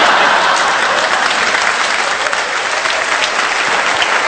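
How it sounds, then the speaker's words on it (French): A comedy show audience applauds loudly and steadily, dense clapping from a large crowd filling the whole stretch without pause. "Regarde, ils applaudissent."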